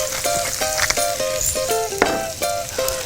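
Onions, garlic and beef brisket stir-fried in a frying pan, a continuous sizzle broken by quick rhythmic clinks and scrapes of a spatula on the pan, close and steady.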